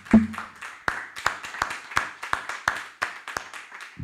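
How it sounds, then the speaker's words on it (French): Congregation at a church service clapping in a steady rhythmic beat, sharp distinct claps roughly every third of a second, fairly close and loud, with a brief voice at the very start. "Applaudissons pour Jésus-Christ."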